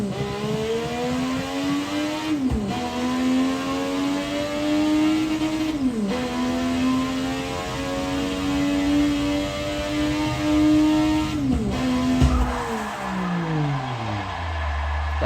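A car's engine revs hard and steadily while drifting in Forza Motorsport 6, pitch rising and dropping sharply at each gear shift, with a faulty transmission causing vibration. The sound falls away to a low idle at the end.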